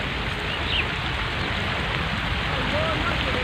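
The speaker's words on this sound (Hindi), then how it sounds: "हल्की हल्की बारिश भी हो रही है" Light rain falls outdoors beside rice fields, a steady broad hiss that fills the whole stretch evenly, with a faint bird chirp now and then and no clear voices.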